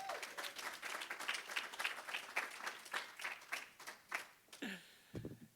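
Applause with some cheering from an audience honoring teachers at a school's State of Our School event, steady clapping through most of the stretch before tapering at the end.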